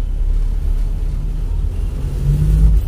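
Morning street traffic on Sabayli Street: a continuous low rumble of passing cars and engines, fairly loud and close, with no clear individual horn or voice.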